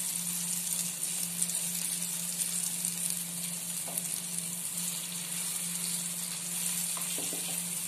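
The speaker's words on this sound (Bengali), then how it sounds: "আস্তে আস্তে বড়াগুলো ভাজা ভাজা হবে" Gima shak fritters (bora) frying in hot oil give a steady, even sizzle throughout, close and continuous with no talking.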